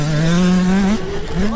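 A 5500W electric dirt bike riding a motocross track, its motor whine rising steadily then dropping and climbing again, loud and close, with no talk.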